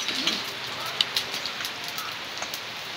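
Rain falls steadily outdoors, a soft continuous hiss dotted with distinct raindrop taps and patters, moderately quiet, with no voices present.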